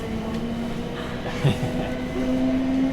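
A London Underground train rides along the tracks on a busy Saturday night, giving a steady close rumble with a sustained wheel whine and faint rhythmic clatter, without talk.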